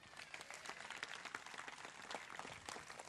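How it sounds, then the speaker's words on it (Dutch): Applause from a studio audience on a Frisian local TV show, greeting two young talents as they are introduced; dense, steady clapping that carries on evenly and moderately loud for a few seconds. "Applaus."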